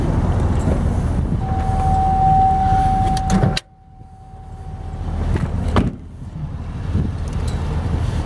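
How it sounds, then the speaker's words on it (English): A 2006 Chevrolet SSR roadster truck's 6-liter pushrod V8 runs with a steady close rumble, broken mid-way by a brief dip and a thin whine before the engine sound returns. "Here you have your 6 liter pushrod V8."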